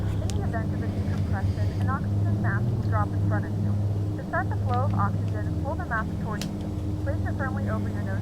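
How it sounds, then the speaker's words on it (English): Dornier Do228 turboprop engines idle and warm up on the ramp before a flight from Guernsey to Alderney, a steady loud drone with strong low tones, while a voice talks over it almost continuously. "Just allow the engines to warm up."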